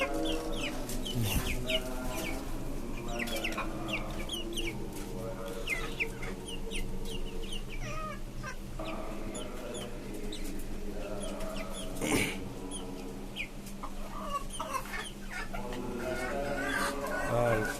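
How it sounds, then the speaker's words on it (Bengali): Tiger breed chicks and desi hens cluck and peep continuously around a farm, with scattered louder calls and voices talking in the background. "এই হচ্ছে আমার বাচ্চাগুলা টাইগার মুরগির"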